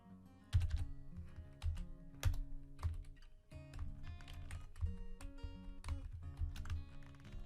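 Typing on a computer keyboard while commenting out a line of code, with quiet irregular key clicks and occasional heavier taps in uneven bursts, close and alone.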